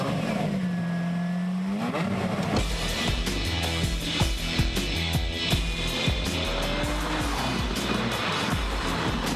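A Lamborghini engine fires up with a rising whine and catches, then revs hard in a steady, loud, close roar with throttle blips.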